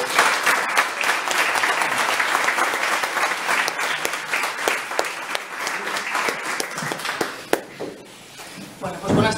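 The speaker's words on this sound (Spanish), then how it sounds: "Un aplauso para Gema." Audience at a political rally for IU-UP ahead of the 20-D elections in La Pola giving loud, continuous applause that fades toward the end, with a voice briefly heard as it dies down.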